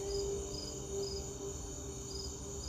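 Crickets chirp steadily outdoors at a homestead on a mild, slightly breezy evening, a continuous faint trill with regularly pulsing higher chirps and no talking.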